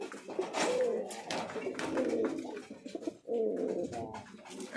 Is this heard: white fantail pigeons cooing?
yes